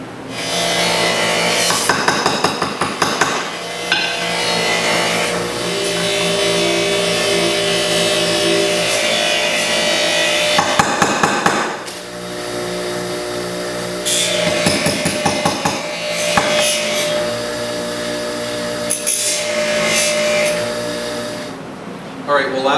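Abrasive grits are rubbed by hand along a knife blade to give it a satin finish, a close, rasping scrape repeated in stroke after stroke with short pauses between passes.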